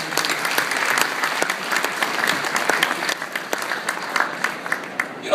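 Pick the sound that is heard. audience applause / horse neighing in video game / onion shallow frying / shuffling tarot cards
audience applause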